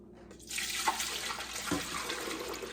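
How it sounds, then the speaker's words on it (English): A gallon of fresh milk pours steadily into a stainless steel pan for mozzarella cheese making, a continuous close liquid splash with a soft clunk partway through. "I'm going to pour this milk in this pan."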